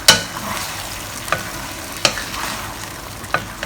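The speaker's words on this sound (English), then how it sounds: "Now when the sauce is boiling, put in the fried fish." Fried fish fillets stirred into boiling sweet and sour sauce in a pan, a steady bubbling sizzle with a few sharp scraping clinks from the utensil, close and without talk.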